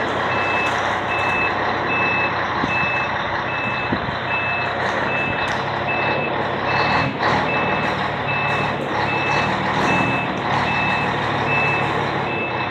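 Conventional-cab (long-nose) truck reversing during a tight maneuver at an ArcelorMittal site, its steady evenly spaced reversing beeps sounding over a continuous loud engine rumble, with no talk.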